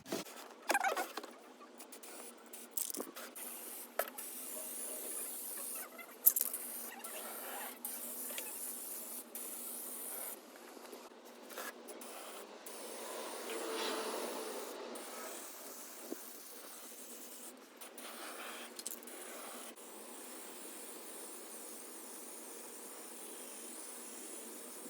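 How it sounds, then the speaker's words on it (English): Spray paint hisses in short bursts onto a small miniature baby crib, a steady airy spray with brief pauses and light handling noises, heard close with no talking. "So now we're going to spray the other side of the cot."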